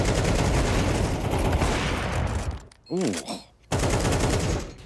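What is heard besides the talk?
gunfire in the video game Counter-Strike 2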